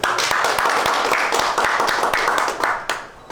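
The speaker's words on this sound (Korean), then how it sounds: "찬성하시면 박수 한번 쳐주세요" A small group of meeting attendees at a Korean mountain marathon federation extraordinary general assembly clap briefly together, a short close burst of hand claps with a few sharper individual claps standing out.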